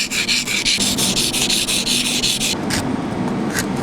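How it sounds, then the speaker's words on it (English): A chisel or hand tool grooves and hogs out material inside a basket-hilt rapier sword handle, giving rapid rhythmic scraping strokes, close and loud, that stop near the end. "Good for a little freehand grooving and hogging the material inside the handle."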